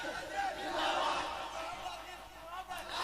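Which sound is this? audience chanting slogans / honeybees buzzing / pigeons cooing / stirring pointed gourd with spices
audience chanting slogans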